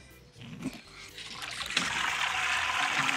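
Sparge water for a home-brewed Irish extra stout trickles quietly at first, then swells into a steady, fairly close rush of draining liquid that carries on to the end, with no voices.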